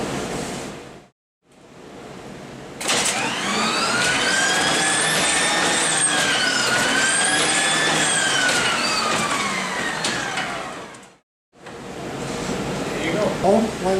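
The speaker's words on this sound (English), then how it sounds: "This engine is an air-cooled engine that was used on the Argus long-range patrol aircraft." An air-cooled piston engine of about 3,750 horsepower from an Argus long-range patrol aircraft, shown at the Greenwood military museum, gives a loud, steady roar of about eight seconds with a slowly shifting tone, framed by quieter ambient stretches.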